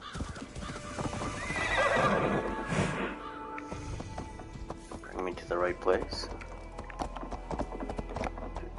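A horse's hooves clip-clop at a steady run and a loud whinny cuts in, with someone talking over much of it, in the video game Assassin's Creed Valhalla on PS5.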